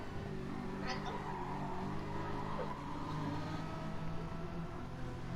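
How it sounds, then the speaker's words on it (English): A Jaguar race car's engine drones in a racing video game, a steady mid-distance hum with shifting tones, heard faintly under ongoing talk. "I love the sound of that Jag too."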